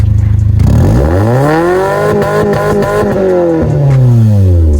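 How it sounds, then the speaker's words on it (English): A car engine revs up and down, loud and close, with a few sharp crackles from the exhaust between revs. "it even gave me a little bit of pop out of the back of my exhaust pipe"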